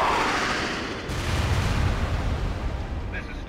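Incoming artillery fire in the real-time strategy game World in Conflict rumbles as a continuous heavy barrage of low booms and blasts, loud and sustained, with faint voices mixed into the battle din.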